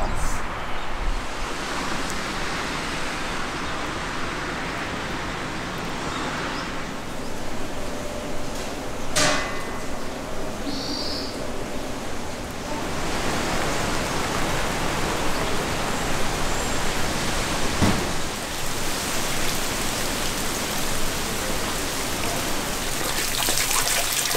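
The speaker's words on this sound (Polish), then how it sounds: "Obrzydliwie leje." Dense, steady rush of heavy rain pouring down on a hiking trail in Japan, broad and continuous, with a faint voice briefly underneath.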